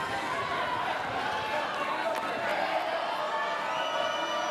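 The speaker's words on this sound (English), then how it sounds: "Standing room only crowd." A standing-room-only crowd roars and cheers continuously at a 2023 NCAA volleyball tournament quarterfinal between Pitt and Louisville, a dense, steady arena din with no breaks.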